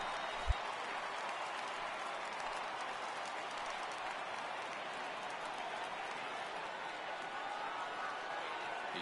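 Steady, dense roar of a large stadium crowd of over 39,000 at a baseball game in MLB The Show 18, Miami Marlins setting, sustained and fairly distant throughout with one brief low thump near the start.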